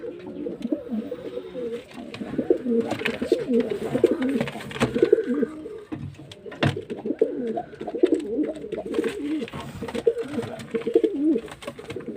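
Several pigeons coo close by in repeated soft, throaty bursts that overlap and continue throughout, with occasional light rustling.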